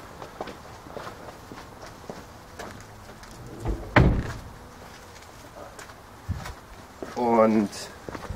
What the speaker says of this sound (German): Türen zu.